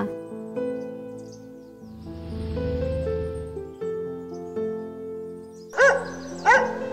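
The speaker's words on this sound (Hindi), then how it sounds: "कुत्ता।" A dog gives two sharp, loud barks close together near the end, after a stretch of soft music and other sounds.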